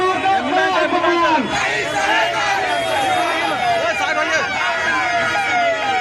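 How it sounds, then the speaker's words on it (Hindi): A wailing ambulance siren rises and falls over a loud, dense crowd with overlapping voices and shouting throughout. "एम्बुलेंस को जगह दीजिए, आप सबों से आग्रह है, एम्बुलेंस को जाने दीजिए"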